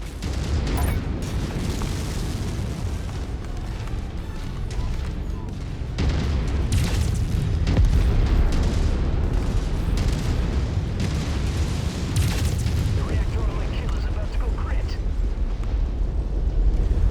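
Explosions from mech combat in the MechWarrior 5 video game, Rise of Rasalhague DLC: a loud, continuous rumbling roar of blasts and booms with sharp bursts, lasting throughout, with speech at times.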